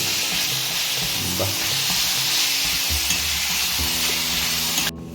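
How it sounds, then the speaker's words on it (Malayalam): Tomatoes added to a hot frying pan with bitter gourd, giving a loud, steady sizzle with stirring scrapes, close up, cutting off near the end. "തക്കാളി ഞാൻ ഇടട്ടെ തക്കാളി ആഡ് ചെയ്തിട്ടുണ്ട്"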